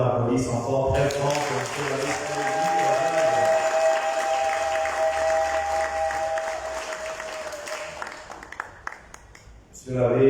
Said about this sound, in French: je voudrais qu'on applaudisse encore très fort pour la disponibilité